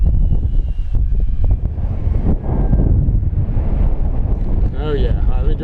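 Strong gusty crosswind buffets the microphone at an RC airfield, a loud, constant low roar of wind noise that masks most other sound, with a faint model aircraft motor whine rising near the end.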